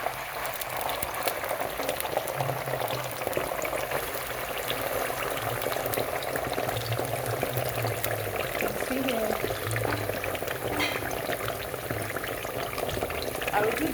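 Tomato stew base bubbles and fries in a hot pot for Nigerian stew, a loud continuous close sizzling and boiling hiss with occasional pops, steady throughout.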